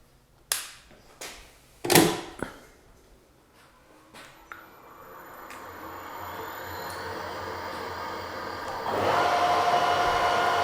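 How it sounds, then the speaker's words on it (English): A few sharp knocks and clicks, then a lathe spins up into a steady whirring hum that grows louder and holds. "let's start the lathe and see what the sound looks like when that's running"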